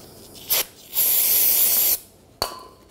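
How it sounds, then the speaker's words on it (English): Brake parts cleaner sprays from an aerosol can onto a slide pin during a rear brake job on a 2004-2010 Toyota Sienna, a short burst followed by a steady hiss of about a second, then a brief spurt. "Take a little brake parts cleaner."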